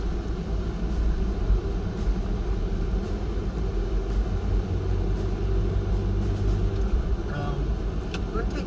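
A cheap, high-mileage VW Golf with its check engine light on drives on a test run, a steady loud engine and road rumble throughout, heard from inside the car.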